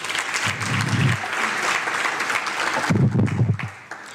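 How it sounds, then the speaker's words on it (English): An audience at an Africa Speaks public lecture breaks into warm, sustained applause for the speaker, dense clapping that swells twice before tapering off, with a voice faintly under it. "Can we please give him a round of applause again?"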